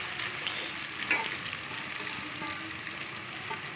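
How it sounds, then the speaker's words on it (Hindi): Onions fry in a pan with nigella seeds, fenugreek seeds and cumin while being stirred to light brown for potato bharta, giving a steady, close, continuous sizzle with no talking. "अब इसको प्याज को लाइट ब्राउन करूँगी मैं इसको।"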